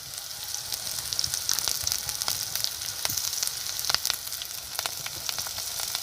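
Green chilies fry in hot oil for a Gujarati sing bhajiya shaak, giving a close, steady sizzle scattered with sharp pops and spatters for several seconds, no voices.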